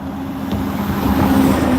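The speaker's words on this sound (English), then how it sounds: "Watch this truck pass." A big truck barrels fast down a residential street, its low engine rumble and tire roar growing steadily louder as it closes in, with no one talking.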